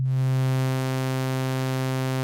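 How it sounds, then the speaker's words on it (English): A synthesizer holds a steady note C while its waveform morphs from a pure sine wave toward a bright, buzzy sawtooth. The tone is sustained and unbroken, with no speech. "I will now morph this waveform from being a sine wave to being a sawtooth waveform"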